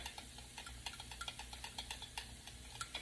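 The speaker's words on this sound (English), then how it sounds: "So we're just going to stir it up" A spoon stirs a meat and vegetable mixture seasoned with spicy brown mustard, salt and pepper for cheesesteak sliders, giving quiet wet scrapes and clicks in a loose repeating rhythm, close and faint.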